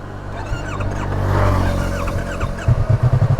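A Yamaha YZF-R3 motorcycle engine cranks and catches, then settles into a close, loud, rhythmic pulsing idle with no talk.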